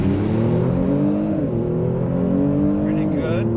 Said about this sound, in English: foot to the ground, throttle down, launch control ready,